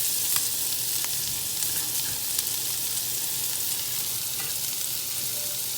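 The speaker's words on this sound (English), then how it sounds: "Then we're going to throw our shallots," Shallots, garlic and peppers sizzle steadily in hot oil, a continuous close frying hiss with occasional small pops and a faint clink of a pan, no talking.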